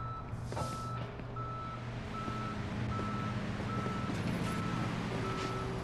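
A tow truck in Police Simulator backs up with a steady series of evenly spaced reversing beeps over a low engine rumble, fairly close and continuing throughout.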